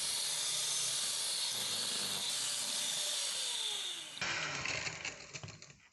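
An electric mixer runs on high speed, creaming butter and sugar for red velvet cupcake batter. A loud, steady whirring hiss holds for about four seconds, then drops to a thinner, rattling texture; no one speaks.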